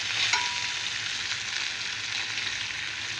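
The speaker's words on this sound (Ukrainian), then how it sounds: "Рибка прожарилася дві хвилиночки з однієї сторони" Pike fish fries in a hot pan, a loud, steady, close sizzle with crackling spatter that continues evenly throughout, with no talking.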